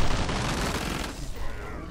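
Explosions and gunfire roar in Killing Floor 2 during the Summer Sideshow event, a dense, loud barrage of blasts that eases slightly toward the end.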